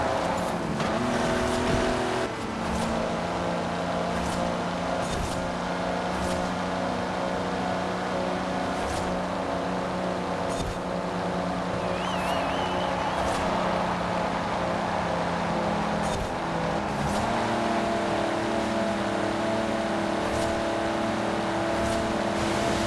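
Heavy GMC Typhoon in Forza Horizon 4 accelerating with a steady, loud engine drone and rising gear pulls, the revs climbing then flattening out as it runs out of power, with brief shift breaks and occasional tire noise.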